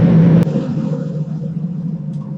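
A 1963 Studebaker Avanti's engine rumbles steadily as the car drives, a low, continuous drone near and fairly loud, with a brief sharp click early on and no voices.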